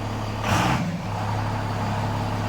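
A 1999 Cummins diesel engine with a starting fault and low fuel pressure idles with a steady low rumble, then a brief throttle tap brings a short rise in roar before settling back.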